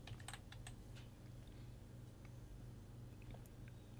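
A password typed on a computer keyboard: quiet, quick keystroke clicks in irregular bursts, recorded close up in a calm room.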